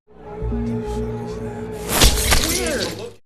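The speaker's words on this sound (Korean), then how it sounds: "혼란한 와중에도 창문 깨지는 소리를 감지한" Window glass shatters loudly in the middle of a tense film scene at a wedding-anniversary gathering, a sharp crash followed by scattering shards over a low musical hum and murmuring voices.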